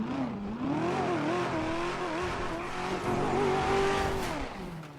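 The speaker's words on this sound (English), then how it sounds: "Just listen to how this car sounds." A video game car engine roars and revs continuously, its pitch rising and falling through gear changes, loud and close with no talking.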